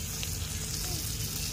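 Chopped tomato hitting hot oil with spices in a pan for dal, a brief steady sizzle under a low hum.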